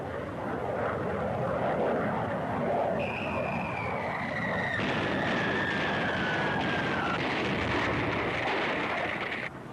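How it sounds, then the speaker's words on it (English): A loud, steady roar of an early World War II German jet plane's engine with a high whining tone that rises and shifts, sustained throughout as if passing overhead. "The Germans send up one of their first jet planes of World War II to knock down the bridge."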